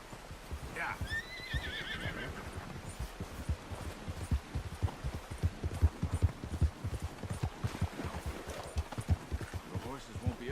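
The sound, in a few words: horse hooves in video game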